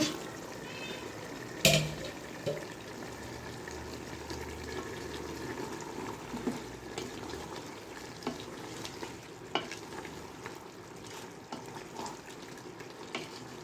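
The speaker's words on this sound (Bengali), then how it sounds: "এখন ঢাকনা খুলে একটু নাড়াচাড়া করে দিব" A lid comes off a pot of chicken tehari with one sharp clatter. Then comes a long spell of scraping, stirring and soft sizzling close by, with scattered small knocks and no talk.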